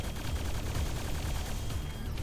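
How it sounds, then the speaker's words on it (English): Dense gunfire and explosions rattle continuously in the Quake 2 RTX shooter game, a loud, rapid barrage of bursts with no pauses and no talking. "Nice bit of explosions there."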